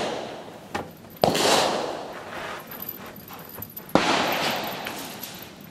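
A Lyman Ideal Sharps rifle chambered in 38-55 fired outdoors at a 50-yard range: two loud, sharp reports a few seconds apart, each with a rolling decay, plus a fainter pop just before the first.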